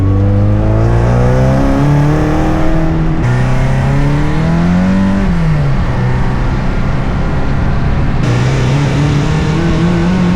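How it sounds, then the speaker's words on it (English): A tuned Toyota JZX100 with a 500 HP 2JZ engine drones loudly up close, its exhaust rising and falling in pitch as it revs and settles, with no talking. "I really don't like how this car sounds at the moment. The exhaust note is bad."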